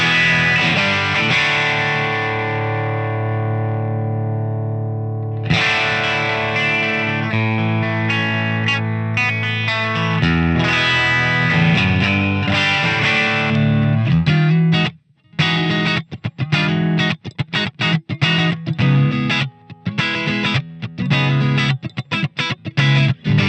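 Electric guitar on the bridge pickup played through a Genome amp simulator, loud and distorted with chorus-like shimmer: a long ringing chord fades out, then more sustained chords, then fast choppy palm-muted riffing with sharp stops, no talk.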